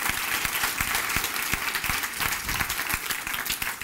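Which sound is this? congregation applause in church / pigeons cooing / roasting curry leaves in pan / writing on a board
congregation applause in church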